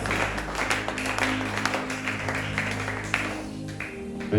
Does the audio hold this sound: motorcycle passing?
no